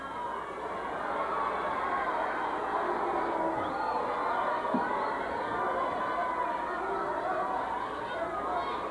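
A large wrestling arena crowd holding signs and banners murmurs and chatters continuously, a broad steady roar with occasional shouts rising from the noise, while a commentator's voice talks over it.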